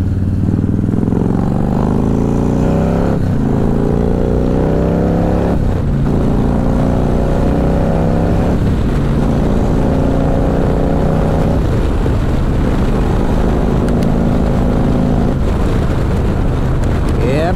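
A motorcycle engine fitted with new stock spark plugs runs loud and close, rising and falling through several revving gear climbs over a steady rumble, with wind noise throughout.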